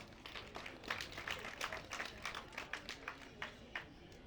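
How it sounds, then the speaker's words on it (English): Scattered applause from a crowd at a half marathon event, uneven clapping rising and falling over a few seconds, with some murmured voices underneath. "So once again, give yourselves a round of applause."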